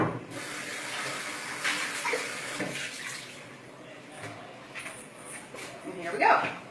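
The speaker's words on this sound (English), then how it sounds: "I'm going to rinse the strawberry out from in there." Water runs from a tap to rinse strawberry residue out of a detachable machine part, a steady hissing splash that rises and falls as the part is moved under the stream, with a louder burst near the end.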